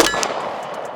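A pistol magazine being swapped on a Strike Industries Glock frame, heard as one loud metallic clang up front and then a fading ringing tail with a few faint light ticks.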